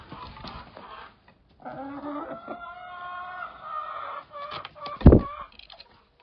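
Chickens cluck and a rooster crows nearby, a few hens calling over one another with a louder cry near the end.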